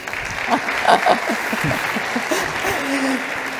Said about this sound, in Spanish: Te aplaudimos, Jean-Louis, por todo lo que nos has contado